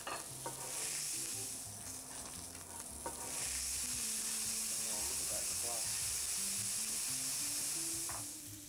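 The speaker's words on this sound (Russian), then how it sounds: "Остается только приглядывать за мясом, и тогда получится отличный сочный бифштекс, пропитавшийся ароматами и вкусом трав." Steak with herbs sizzling and frying in a pan, a continuous bright hiss with occasional stirring and clinks, close and steady.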